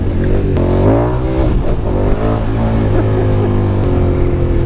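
KTM 1290 Super Adventure big-twin motorcycle engine pulling hard under acceleration, a loud continuous throaty drone with rising pitch and a brief gear change partway, heard up close with no talking.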